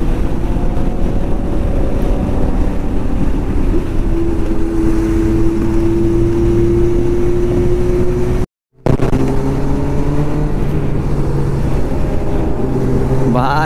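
A Kawasaki Z900 motorcycle ridden fast in fifth gear, a steady engine drone under heavy roaring wind buffeting on the microphone, with a brief cutout partway through.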